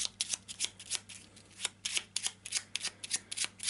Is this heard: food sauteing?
no